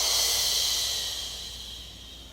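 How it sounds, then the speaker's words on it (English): A deep, breathy inhale during a core exercise sounds as a close, airy hiss that starts strong and fades over about two seconds, with no talking. "I take an inhale"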